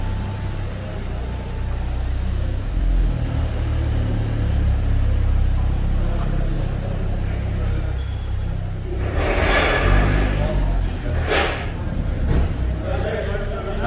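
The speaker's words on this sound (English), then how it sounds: "It's a turn of my A45S." A Mercedes-AMG A45 S runs on a chassis dyno, a loud, dense low rumble that swells and roars through the run, with sharper bursts near the end.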